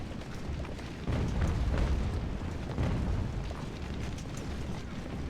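A 6-pound gun firing in the video game UGAR, in an early British campaign battle at Wyoming and Fort Sullivan: dull booms and muffled blasts roll over a steady rumbling battlefield din.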